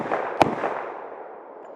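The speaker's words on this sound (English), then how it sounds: "don't fire your Glock 20 underwater" A Glock 20 10mm pistol firing 180 grain full metal jacket rounds underwater, one sharp muffled crack followed by a dull, rumbling wash that slowly fades.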